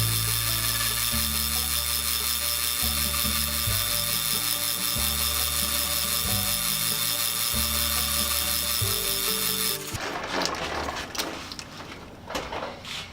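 A metal lathe turns down a spare chuck key for a band saw rebuild, giving a steady mechanical drone with rhythmic shifts. It gives way near the end to rougher, louder cutting and clattering noise.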